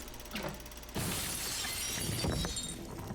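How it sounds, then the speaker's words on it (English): Glass shatters loudly as a figure crashes through a window in the House of the Dead Remake, a sudden burst of bright breaking and tinkling debris followed by clattering noise. "This man came crashing through the window like he's Batman or something."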